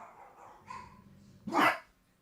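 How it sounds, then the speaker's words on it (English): Small dogs barking in the background of a home livestream, with a couple of faint yips followed by one louder sharp bark, heard apart from the main talk. "the little dogs are barking back there"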